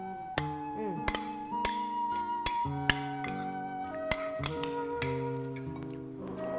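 A spoon stirs acai berry mix in a glass, sending out a series of bright, ringing clinks that recur at irregular intervals of about half a second, close and fairly quiet.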